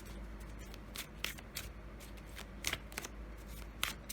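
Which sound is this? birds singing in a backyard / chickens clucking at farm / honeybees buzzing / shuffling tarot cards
shuffling tarot cards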